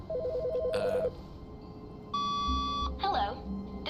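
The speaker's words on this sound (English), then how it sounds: "Phone call." An electronic phone ring in The Stanley Parable: Ultra Deluxe, with a warbling two-tone trill at the start and a sustained synthetic tone later, over steady game background sound and no talk.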